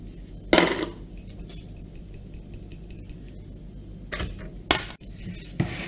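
Cake batter with drained poppy seeds stirred in a bowl: soft scraping throughout, broken by a few sharp clinks and knocks of the utensil against the bowl's rim, close and moderately loud.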